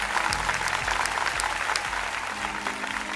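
A television talent-show audience at a singing semifinal applauds loudly and steadily, dense clapping filling the room for the whole stretch with no talking over it.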